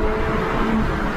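Car engine under steady load during a pull toward a raised 6800 RPM redline after an ECU reflash, a continuous broadband roar at constant loudness throughout, with no voices.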